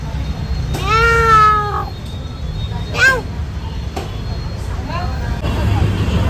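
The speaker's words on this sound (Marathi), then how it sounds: "हे मांजरीला बघा" A cat meows three times, one long drawn-out cry and two shorter ones, over a steady traffic rumble.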